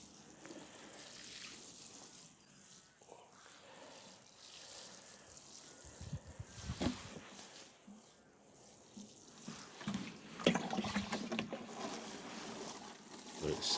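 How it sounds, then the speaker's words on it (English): Seedlings on an allotment get a quick watering: irregular splashing and gushing of water, quiet at first and growing louder and busier toward the end, with a voice speaking at times. "But I'll give them a quick watering."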